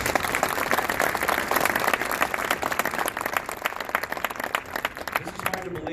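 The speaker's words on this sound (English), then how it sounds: "So please give them a round of applause." An audience at the Cardinals Care grant presentation ceremony breaks into sustained applause, dense clapping from many people close by that lasts for several seconds and thins slightly near the end.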